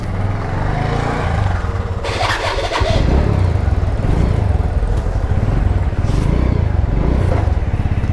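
A motorcycle engine runs steadily up close on a long bike ride, its low throbbing drone holding throughout and rising slightly in pitch partway through as it revs, with no talking.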